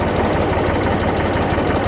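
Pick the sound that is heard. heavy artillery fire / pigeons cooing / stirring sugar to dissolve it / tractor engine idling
tractor engine idling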